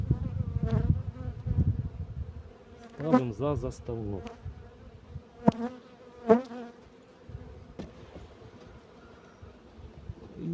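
Honey bees buzz steadily around the hive during spring colony work while a person talks nearby, with some clunks and frame-handling sounds mixed in.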